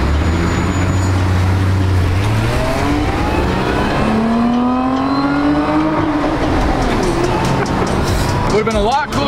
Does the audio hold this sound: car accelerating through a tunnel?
yes